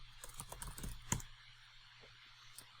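Soft clicks of a computer keyboard being typed on, a short burst of quick keystrokes followed by a few sparse taps, faint and close, with no talking.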